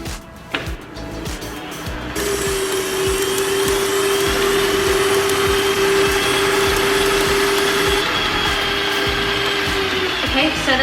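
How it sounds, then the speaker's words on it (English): An electric mixer whips butter in a bowl, a steady loud motor whine running continuously after a brief start, with a voice heard under it. "I'm just going to whip up the butter for about 1 to 2 minutes until it's nice and fluffy."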